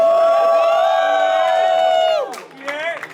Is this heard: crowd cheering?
yes